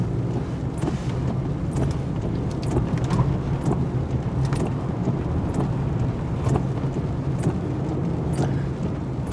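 2020 Infiniti QX60 AWD SUV with a CVT automatic on a turning circle on a wet road, a continuous rumble of tires and road noise with steady wind buffeting and brief splashy bursts, no talk.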